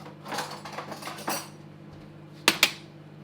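A teaspoon mixes thick whey protein paste, with a short burst of soft scraping strokes, a quiet pause, then two crisp metallic clinks close by.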